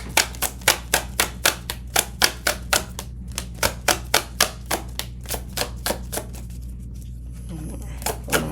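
Tarot cards snap and flick in a rapid, rhythmic run of crisp clicks, close and fairly soft, pausing briefly midway before resuming, over a low steady hum.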